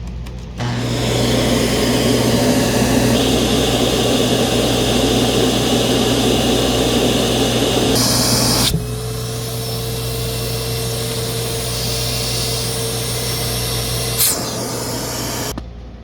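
A Sharp Twin Energy EC TU4707 vacuum cleaner runs with its hose and telescopic wand attached in floor mode, a loud, constant whooshing roar whose tone shifts abruptly partway through.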